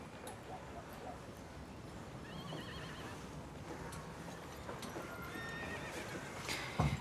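A horse whinnies and its hooves clip-clop nearby outdoors, with faint rustling and birds in the background and a louder knock near the end.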